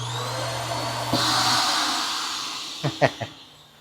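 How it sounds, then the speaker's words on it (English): A built-in vacuum in a 2026 Forest River IBEX 20MDS travel trailer switches on with a thump and settles into a steady airy whine and hiss, with a few short vocal sounds near the end. "this unit, as we have told you once before, also does come with a built-in vacuum, which sits right down here"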